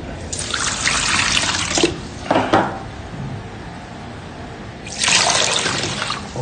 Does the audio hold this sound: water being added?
yes